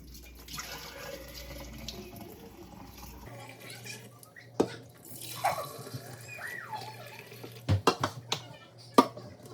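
Bone broth pours and splashes into canning jars held over a kitchen sink, with running water and a few sharp clinks of glass near the end.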